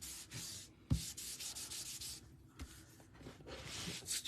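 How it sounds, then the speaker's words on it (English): A paper piece being burnished flat onto a handmade quilt-style greeting card with a tool, giving soft close rubbing and sanding strokes in short bursts with brief pauses, and no talking. "I'm going to burnish that really good because I want that to stick and stay flat."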